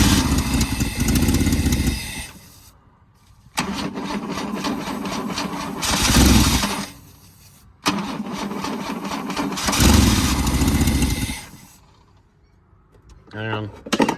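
The engine of a 1984 Holden VK Vacationer wagon, running off its original fuel tank, cranks and runs in two long loud stretches, each cutting out to near silence, with a voice briefly heard at the end.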